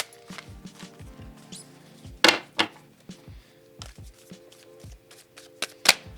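Tarot cards are shuffled by hand at close range, a run of crisp, rapid riffles and soft slaps coming in uneven bursts with brief pauses and a few sharper card snaps.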